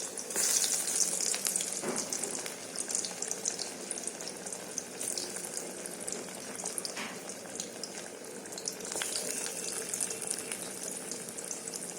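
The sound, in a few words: vegetable slices frying in oil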